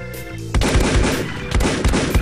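Rapid automatic gunfire from an AK rifle in the Minecraft PE video game, loud dense bursts of repeated shots firing continuously, with no talking.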